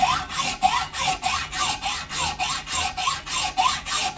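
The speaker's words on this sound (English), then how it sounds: "continued sawing." A hand saw rasps back and forth in slow, steady strokes on a 1997 Gibson Les Paul guitar, about a dozen even passes, close by and fairly quiet.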